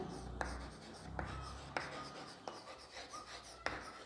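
Chalk or a marker scratches across a board during an English lesson in a classroom, making quiet, scratchy strokes with small taps as each letter is started, with faint room noise.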